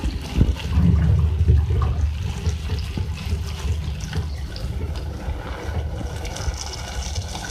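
Water pours into softening tomatoes in a cooking pot, a close rushing splash at first that settles into a lighter, steady bubbling trickle.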